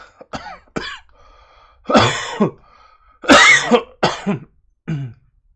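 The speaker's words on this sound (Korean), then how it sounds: "녹화하기 시작하니까 기침이 조금 나오네요." A person coughs several times in short, harsh bursts and clears their throat, close by, with quiet pauses between the fits.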